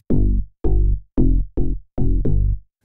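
Layered synth bass made from a Retro Synth 80s bass and an EFM1 Dark Attack bass in Logic Pro, played as six loud, punchy notes in a steady rhythm, each with a sharp attack and short decay, alone with no talking.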